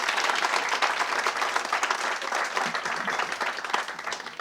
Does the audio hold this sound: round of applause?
yes